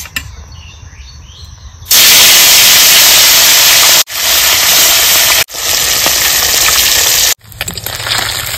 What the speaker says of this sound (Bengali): তেল গরম হয়ে গেছে, বেলে মাছগুলো দিয়ে দেবো।